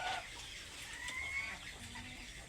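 A brooding hen sits in a nest at a family-raised flock and gives soft, low clucks with a few higher calls, faint against quiet farmyard background.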